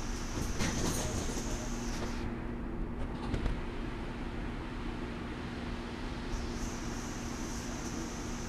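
A train rumbles steadily up close with a low droning hum, with a high-pitched tone at the start and again near the end.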